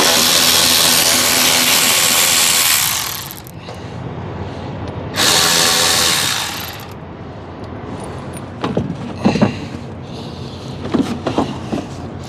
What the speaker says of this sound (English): Now we're going to start taking all the fender screws out to get the inner fender out